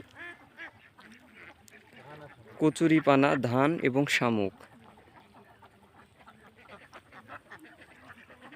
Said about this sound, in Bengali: আমাদের সেই ডিমের হাঁসগুলো এখন মাঠে ছেড়ে দেওয়া আছে মাঠে খাবার খাচ্ছে